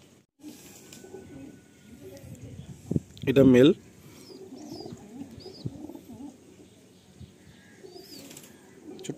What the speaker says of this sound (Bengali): এটা মাদি পায়রা, এটা নর পায়রা